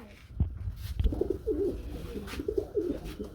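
Pigeons coo at a busy pigeon market where black Bombay pigeons are sold, with several low warbling coos rolling one after another close by over a murmur of crowd noise.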